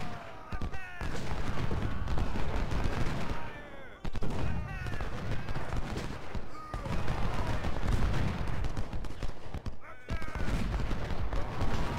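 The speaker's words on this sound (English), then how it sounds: "You got a gun shooting at you." Gunfire rattles across a Civil War battle in the strategy game Ultimate General: Civil War, volleys of musket and cannon shots booming repeatedly under a voice.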